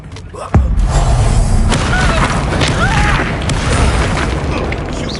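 Incendio fire spell blasts in Hogwarts Legacy, a sharp booming burst followed by a sustained roaring, crackling rush of flame and effects, loud and close with scattered whooshing spell sounds throughout.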